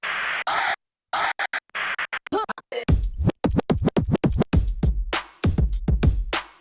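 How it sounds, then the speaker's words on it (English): Chirp scratches on a Pioneer DDJ-REV7 DJ controller using a built-in Instant Scratch sample: quick, choppy bursts cut on and off by the crossfader, starting as a sample snippet and then settling into a rapid run of sharp, rhythmic chirps. "Today, we're going to practice this scratch using the DDJ-REV7's Instant Scratch feature."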